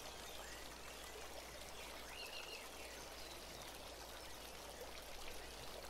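Flowing water in royal water gardens, a steady soft rush and trickle that runs without a break from start to end, quiet and even, with no voices over it.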